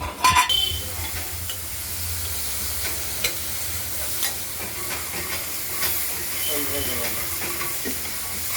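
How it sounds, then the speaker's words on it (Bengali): Bitter gourd and pumpkin frying in mustard oil with mustard seed in a covered pan, a steady soft sizzle and hiss running throughout at moderate level, with a brief clatter at the start. "আমাদের উচ্ছে কুমড়োটা ভাজা হয়ে গেছে।"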